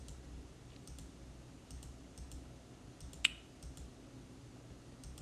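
Quiet, sparse computer keyboard typing, a few light key clicks in small clusters with one sharper tap, heard close against a faint background hiss and no talking.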